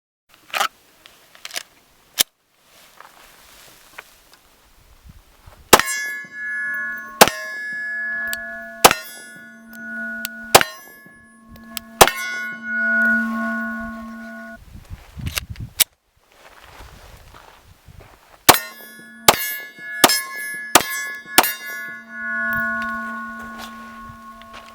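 A PSA Dagger 9mm pistol fires Russian steel-case ammunition at 10 to 15 yards: sharp single shots come in irregular bursts, each followed by a ringing metallic clang from the targets.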